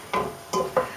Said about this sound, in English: give it a bit of a stir